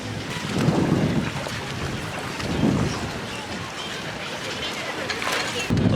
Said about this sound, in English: I'm noticing massive waves splashing over the side